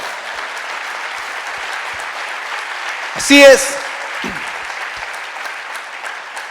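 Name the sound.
congregation applause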